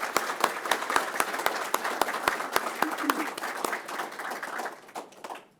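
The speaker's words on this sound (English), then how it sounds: "Can we please give Nurse Karen Anderson a round of applause?" Audience applause at an EMS Academy graduation ceremony: steady clapping from a crowded hall that thins out and fades over several seconds, with scattered individual claps toward the end.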